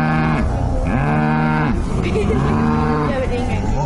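A cow moos in long, loud, close calls, several drawn-out lowing bellows in a row that rise and fall in pitch, with no other sound competing.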